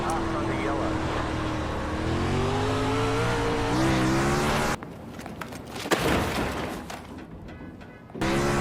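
Sprint car engine in iRacing, a loud sustained race-car drone with rising revs over the first few seconds, then cutting out abruptly into quieter, broken engine noise and returning near the end.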